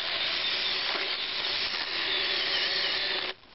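A small cordless mini chainsaw bites into a rotten knot, giving a steady high whining buzz that holds for about three seconds and then drops away abruptly.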